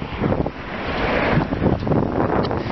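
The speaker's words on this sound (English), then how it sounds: "It is windy today." Gusty wind in San Francisco buffets the microphone, a loud rough rushing that swells and dips throughout.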